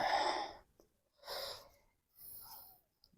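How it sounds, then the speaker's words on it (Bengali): Someone takes three deep, forceful breaths as a doctor listens, each breath a loud, airy rush lasting about half a second, close up, with short quiet pauses between them. "একটু জোরে জোরে শ্বাস নাও।"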